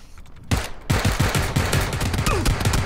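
Rapid gunfire in PUBG (PlayerUnknown's Battlegrounds): after a brief opening burst, a steady stream of close, loud automatic shots runs with sharp repeating cracks over a busy background.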